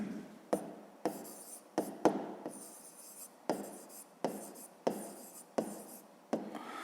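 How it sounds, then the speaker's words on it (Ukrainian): A pen writes out an answer on paper, a close series of quick scratching strokes with sharp taps roughly every half second, faint and without talking. "Записуємо тоді відповідь."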